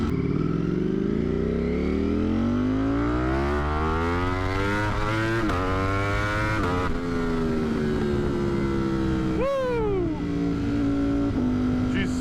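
A 200+ HP motorcycle with a loud aftermarket exhaust revs hard through rising and falling sweeps, shifting up repeatedly with a sharp drop and pops, loud and close throughout.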